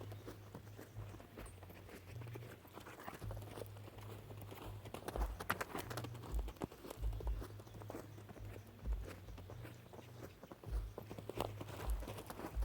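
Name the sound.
young horse loping hoofbeats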